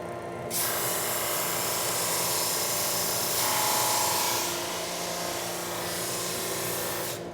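Surface sander in a woodworking shop feeding short walnut pieces, giving a continuous loud grinding hiss with a steady low machine hum that swells slightly in the middle and stays even for several seconds.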